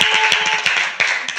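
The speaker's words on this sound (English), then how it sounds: "Can we get a round of applause for Sinjin and put this together?" Applause from an audience at a community meetup talk, a dense wash of hand claps with a few sharper individual claps, fairly close and sustained through the short moment.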